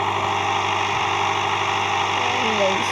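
A scooter engine idles steadily nearby with a constant droning hum and light vibration, while a voice talks over it throughout.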